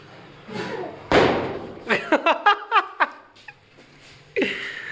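A Diwali firecracker goes off in one sharp, loud bang, followed by a quick run of rhythmic yelps or calls and a faint later pop.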